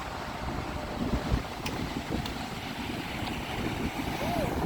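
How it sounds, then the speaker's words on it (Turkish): Stormy sea with big waves, a dense continuous roar of surf and heavy wind buffeting the microphone, rising and falling in loudness throughout. "Arkadaşlar çok dalga var bakın."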